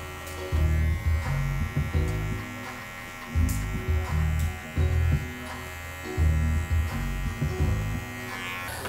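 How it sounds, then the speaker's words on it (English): Oster Fast Feed electric hair clippers buzz steadily at close range with the blade lever open while cutting curly hair for a mid fade. The hum rises in pulses each time the blade passes through the hair. "Right now I'm using my Oster's fast feeds, and I got my lever open."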